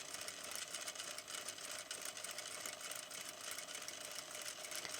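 A sewing machine runs steadily while stitching a superimposed seam on garment fabric, a continuous even motor whir with no clear pauses, moderately close and not loud.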